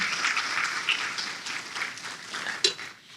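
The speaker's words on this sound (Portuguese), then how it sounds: "dê um forte aplauso ao Senhor" A church congregation applauding steadily for a few seconds, the clapping dense and fairly close, fading out at the end.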